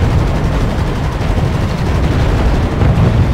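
A tank column fires continuously in the real-time strategy game RUSE during a 4v4 match, producing a dense, loud wash of rumbling gunfire and distant blasts with no pauses.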